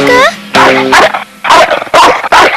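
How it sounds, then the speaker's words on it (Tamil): A cartoon dog barks in several loud, close yapping bursts with whiny tones, as if calling out from inside a pipe. "அதனால அந்த நாய் ஒள்ளி ஒள்ளின்னு குறைக்குது போல இருக்கு."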